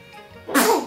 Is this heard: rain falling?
no